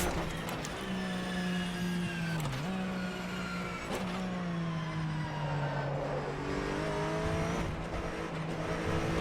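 A race car engine in rFactor 2 holds a strong, close tone that climbs, drops sharply at two quick shifts, then sweeps on through long, steady pulls.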